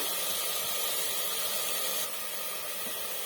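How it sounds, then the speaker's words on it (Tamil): Masala for Dindigul Thalappakatti-style mutton biryani sautéing in hot oil gives a steady, close, broadband sizzling hiss that dips slightly in level about two-thirds of the way through. "இது நல்லா எண்ணெயிலேயே நல்லா வதங்கட்டும்"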